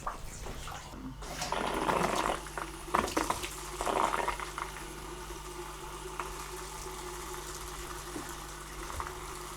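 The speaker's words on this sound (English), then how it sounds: "I'm going to go ahead and turn on another faucet." Water runs from a household faucet in a steady, rushing stream with some sputtering and bursts of trapped air early on, then settles into a continuous flow with no talking.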